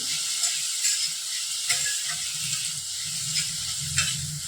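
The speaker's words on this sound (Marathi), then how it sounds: "एक 2 मिनिटासाठी आपल्याला ही परतवून घ्यायची आहे" Fenugreek (methi) leaves sautéing in a pan for a spiced snack dough, a steady close sizzle with occasional stirring scrapes and soft clicks throughout, no voices.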